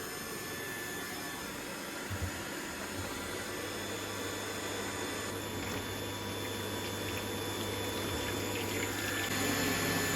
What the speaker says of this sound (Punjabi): ਮਸ਼ੀਨ ਭਰਨੀ ਆ ਪਾਣੀ ਦੀ